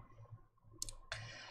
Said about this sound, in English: So I'm actually going to take off the keyboard for right now.